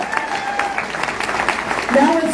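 Audience applause at a voter ID campaign event in Orange County, a steady wash of clapping that swells louder near the end, with a voice talking over it.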